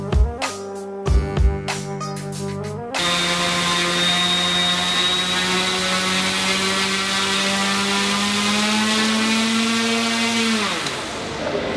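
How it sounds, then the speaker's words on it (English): A factory-built drone propeller spins up during a vibration balance test, a few sharp motor pulses giving way to a loud, steady high whine with a strong hum that holds for several seconds, then winds down near the end. "Right now he's checking the vibration of each propeller."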